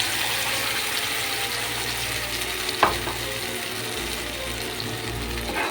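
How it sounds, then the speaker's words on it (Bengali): Sesame paste frying in a pan and being stirred together with pointed gourd, a steady sizzling hiss running throughout with a single louder scrape or clack of the spoon partway through. "তিলের পেস্টটা দিয়ে আমি নাড়িয়ে নিচ্ছি।"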